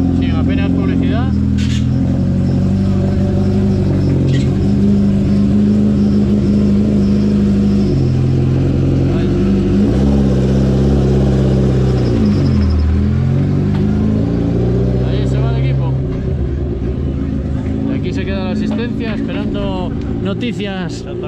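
BMW M3 rally car engine at a historic rally in Asturias, a loud, deep, sustained rumble with pitch swings as it revs and eases, under steady nearby talking.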